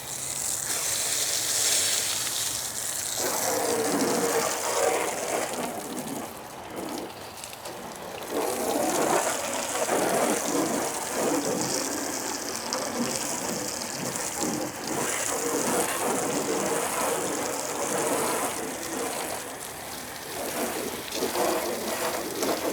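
Water spraying over a car during a hand wash, a steady close hiss of rinsing that runs almost without pause, with brief dips and bursts as the stream moves across the panels.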